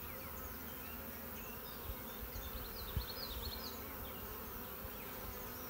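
Honeybees buzz steadily around an open frame during a hive check of a split colony, a dense, constant hum with scattered individual bees whining past close by and a few faint knocks.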